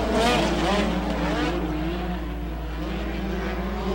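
USAC midget race cars roar off the start on a dirt speedway, a dense, loud blend of high-revving engines sweeping past with no voices over it.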